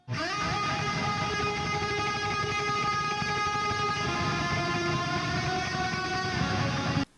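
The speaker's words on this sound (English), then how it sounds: "we have this really fast-picked lead part with a ton of echo on it" A fast-picked electric guitar lead from a cover song, drenched in echo before and after the amp plus reverb, rings out as a sustained, shimmering wash of notes, loud and steady, ending abruptly.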